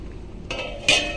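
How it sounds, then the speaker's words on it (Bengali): A metal lid lands on a cooking pot of fish curry, making two sharp, close clinks a moment apart over a quiet kitchen hum. "এবার আমি একটা ঢাকনা দিয়ে ঢেকে দেব।"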